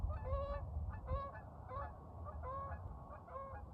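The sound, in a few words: geese honking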